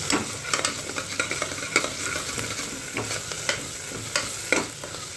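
Chillies frying in a pan while cooking water chestnut sabzi, a constant crackling sizzle with frequent spatula stirs and scrapes, close and steady, no voices.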